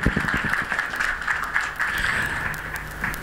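Congregation clapping at a Sunday church meeting, a sustained wash of many hands applauding together, fairly even in loudness for a few seconds.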